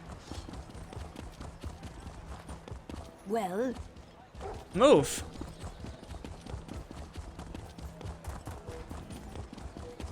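Horse hooves clip-clop in a Western Skyrim setting of Elder Scrolls Online, a steady light trot running through the background beneath two people talking, with a couple of louder effect bursts near the middle.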